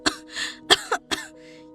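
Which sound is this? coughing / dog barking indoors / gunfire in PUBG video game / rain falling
coughing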